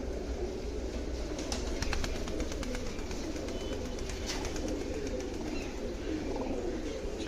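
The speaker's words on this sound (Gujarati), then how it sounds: "આ બધા બીમાર કબૂતરા" Sick and injured pigeons at a bird rescue shelter coo softly and repeatedly over a steady low rumble, with several birds murmuring at once and no talking.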